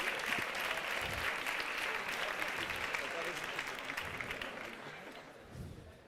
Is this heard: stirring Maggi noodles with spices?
no